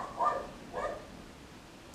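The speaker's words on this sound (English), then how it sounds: "I'm just gonna let my dog have her moment." A dog indoors gives two soft, muffled barks a half second apart, fairly faint, followed by quiet.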